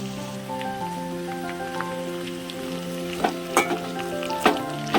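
Broad beans and potatoes cooking in a pan for a village-style curry, with steady close sizzling and frying plus a few sharp clinks and scrapes of stirring near the end.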